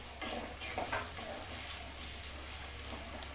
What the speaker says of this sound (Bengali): এবার আমি সবজিগুলোকে শ্যালো ফ্রাই করে তুলে নেব।